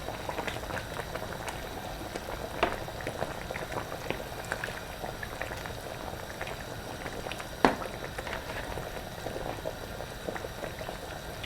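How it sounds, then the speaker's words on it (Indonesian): Spicy coconut-milk fish broth bubbling steadily in a pot, a continuous soft boil with scattered pops and one sharper clink, no voices. "Ini kita masak sampai nanti menyerap bumbunya ya."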